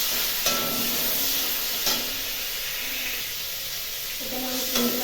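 A handful of small shrimp sizzle steadily in hot oil in a pan, a continuous bright frying hiss broken by a few clinks of stirring, with no talking over it.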